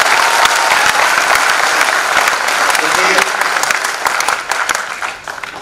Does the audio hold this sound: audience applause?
yes